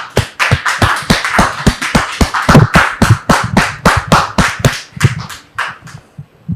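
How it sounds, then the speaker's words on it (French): A church congregation breaks into hearty applause, a dense run of sharp hand claps with irregular rhythm, close and loud, tapering off slightly near the end. "Est-ce qu'on peut dire merci au Seigneur par des acclamations bien nourries"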